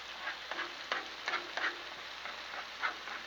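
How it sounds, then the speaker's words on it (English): Minced garlic fries in a hot sauce pan set on a Blackstone griddle, a soft, quiet sizzle broken by a string of light scraping ticks as it is stirred, with no voices. "Just get that garlic kind of cooking a little bit."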